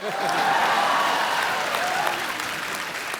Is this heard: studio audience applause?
yes